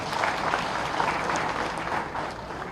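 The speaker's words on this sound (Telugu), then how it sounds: "మీ అందరూ అనుకుంటే ఒకసారి చప్పట్లు కొట్టండి" Audience applause at a government Kapu employees' JAC meeting in Guntur, a steady crowd clapping that stays loud and continuous for a few seconds with no talk over it.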